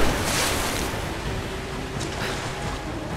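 Broad rushing water in the video game Rise of the Tomb Raider, a steady loud wash with faint swells, heard alone.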